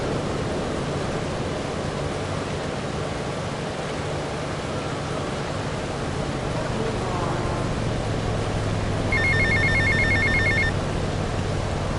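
A payphone rings in GTA Vice City, a short burst of electronic trilling rings standing out near the end over a steady hiss and low background hum.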